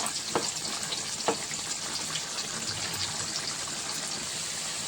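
Telangana-style puli gora, a tamarind broth, bubbling and simmering in a pot, a steady soft sizzle and gurgle with a few brief pops, fairly quiet, with no talking.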